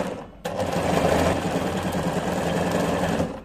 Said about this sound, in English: So then you start sewing like 1/4 inch all through.